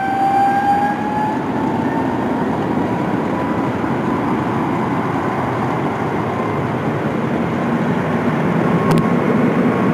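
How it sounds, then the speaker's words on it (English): A Boeing 777 aborting its takeoff, heard as a loud, steady jet engine roar that fills the whole stretch with a faint rising whine early on and no voices. "This Boeing 777 aborting its takeoff and applying full rudder."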